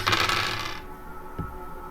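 Dice clatter and tumble across a hard surface for a moment during a numerology dice reading, then come to rest with a faint click; no one speaks.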